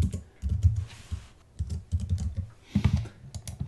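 Someone types on a computer keyboard, entering a name into a sign-up form: quick bursts of close, light key clicks separated by short pauses.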